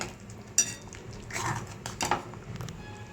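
Chicken being stirred with sautéed vegetables in a pan, faint scattered scrapes and clinks of a utensil against the metal, with a few sharper knocks and a soft sizzle underneath.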